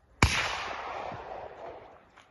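A single sharp gunshot cracks out during a bird hunt in the Jamaican bush, fairly distant, with a long rolling echo fading over about two seconds.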